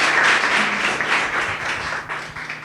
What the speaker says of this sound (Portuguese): Louve ao seu Deus com as suas palmas.